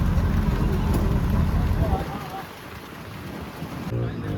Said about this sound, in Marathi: मठावर पोचता पाऊस चालू झाला